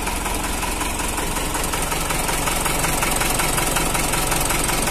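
A Ford F350 truck's turbocharged, intercooled 608 diesel engine idles steadily up close, a loud, even low rumble with a rapid knocking rhythm running throughout.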